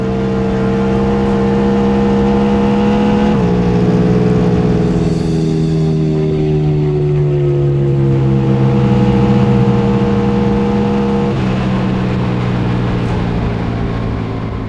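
Indian Challenger race bagger motorcycle at full throttle on the Bonneville salt flats, a loud sustained engine drone with steady harmonics that dip at gear shifts and climb again, constant and close throughout with no talk.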